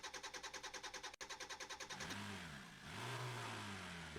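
A car engine starts in the driving game Drive Beyond Horizons. Steady cranking pulses of the starter are followed by the engine catching and revving up, dipping, then revving again. The sound is close and clear with no voices.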